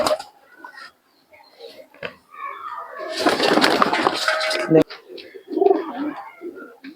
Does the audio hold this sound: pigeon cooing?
yes